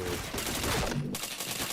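Rapid gunfire crackles through a shooting video game, a dense burst of loud shots filling most of the moment with a brief dip in the middle.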